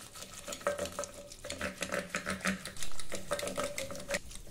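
Cooked taro leaf vegetable being mashed in a pot, a quick run of soft squelching strokes and knocks repeating at a steady, busy rhythm, close and moderately quiet with no talk.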